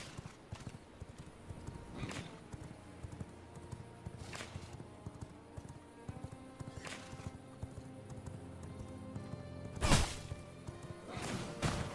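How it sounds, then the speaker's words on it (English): A horse gallops in the video game Fallout 76, its hooves striking in a quick, steady clip-clop rhythm, with a few sharp, loud whacks and crashes breaking through. "There's my horse."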